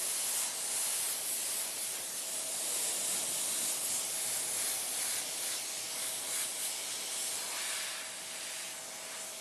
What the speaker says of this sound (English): You can hear how the air pressure dies right down.